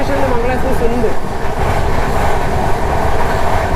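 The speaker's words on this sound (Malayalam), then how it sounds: "വണ്ടി നല്ല സ്പീഡിലാട്ടാ പോകുന്നത്" The Kerala Express sleeper-class train runs at speed on the Thiruvananthapuram to New Delhi route, heard from inside as a loud, continuous, close rumble with rail clatter.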